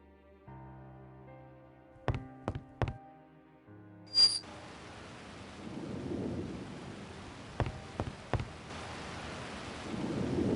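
A storm outside a locked wooden house, with rain hissing steadily and sharp thunder cracks bursting in a few loud clusters over a low rumbling wash, sounding fairly close.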